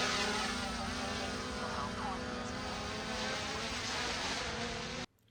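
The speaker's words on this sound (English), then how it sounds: "Let's get this drone set up." A DJI Mini 3 drone flies over a seaside promenade, its propellers giving off a continuous high, insect-like whine that holds steady for several seconds before cutting off abruptly.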